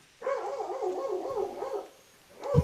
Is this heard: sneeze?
no